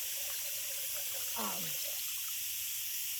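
Tap water runs steadily, hissing and splashing as dirt is rinsed off blackberry plant roots before packing, with a short gurgling gush midway.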